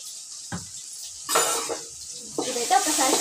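A spoon scrapes and stirs dal and bean curry in a pan, with a short clink followed by two longer bursts of stirring over a soft sizzle.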